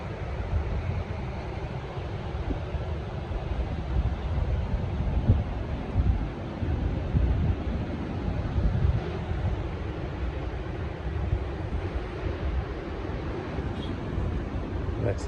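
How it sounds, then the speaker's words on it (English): Waves and wind by the ocean at Oceanside, California in spring create a continuous low rumbling wash that swells and eases gently, with no voices. "listen to the ocean a little bit"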